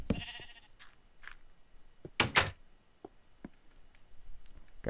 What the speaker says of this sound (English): Oh, it was a sheep.